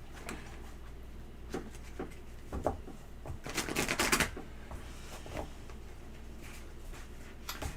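Quiet, irregular papery flicks and soft riffling bursts, with a louder flurry in the middle, as tarot cards are shuffled close by.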